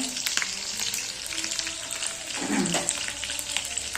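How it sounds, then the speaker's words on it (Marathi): Garlic sautéing in a hot pan, a steady close sizzle with light clicks of stirring and a brief louder scrape near the middle. "लसूण, आता हे चांगलं हे परतवून द्यायचं आहे."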